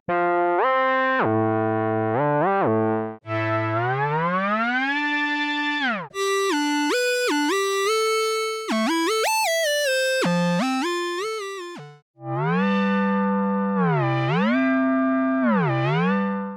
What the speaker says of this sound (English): let's hear some of the presets to hear what this synth has to offer.